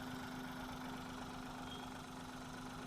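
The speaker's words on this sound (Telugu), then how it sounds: "ఇంజన్ బీటింగ్ చూడండి, చాలా సైలెంట్ అంటే సైలెంట్గా ఉందండి" A Hyundai Eon car's engine idles steadily and quietly, a constant low hum with a fixed tonal drone running unbroken and close throughout.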